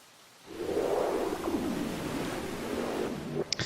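Rain falling in the video game CrossCode: a steady, even wash of hiss that starts abruptly after a short quiet moment and continues, with a few brief clicks near the end.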